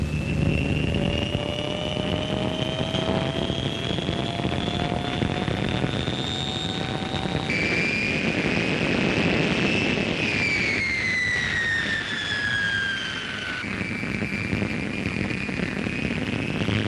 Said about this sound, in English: Engine runs occupied the first afternoon.